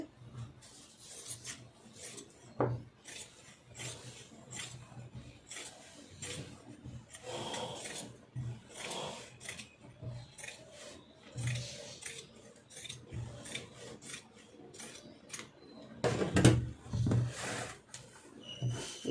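Scissors cut cloth for cigarette pants in a series of close, irregular rasping snips with soft rubbing of fabric between them.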